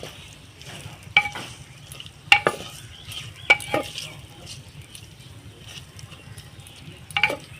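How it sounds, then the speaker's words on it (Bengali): Onions and green chillies frying in a pan for handi chicken: a soft ongoing sizzle with sharp intermittent clanks and scrapes of a spatula stirring, no speech. "পেঁয়াজটাকে আমি অল্প একটু বাউন্ড করে একটুখানি ভেজে নেব"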